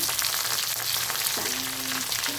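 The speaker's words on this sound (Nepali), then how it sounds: "म चाहिँ प्याज हाल्छु।" Onions sizzle in a pan for chicken curry, a dense, steady frying crackle up close, with a faint tonal squeak near the end.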